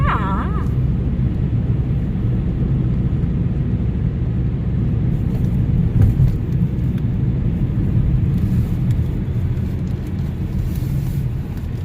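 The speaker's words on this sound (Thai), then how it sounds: "ขับรถเที่ยวในเมือง ขับรถเที่ยวในเมืองค่ะ" A car drives through the streets of Reykjavik, its engine and road rumble steady and loud from inside the cabin, with some wind noise and a few faint voices in the background.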